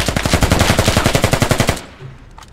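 Automatic gunfire in the military shooter game Squad, a loud, close, rapid burst of evenly spaced shots lasting under two seconds before cutting off into quiet.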